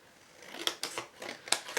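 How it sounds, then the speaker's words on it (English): Several quick snips of scissors cutting through stiff cardstock, close and crisp, in an irregular rhythm. "So let's just grab a pair of scissors."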